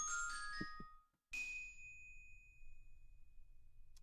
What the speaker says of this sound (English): This might be a replacement triangle sound